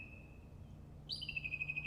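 A small bird gives a high, thin tweet that bends upward and then trills in quick repeated pulses, clear but faint against a quiet background.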